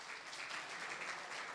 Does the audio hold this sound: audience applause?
yes